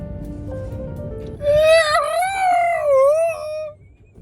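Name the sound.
voice imitating a moose call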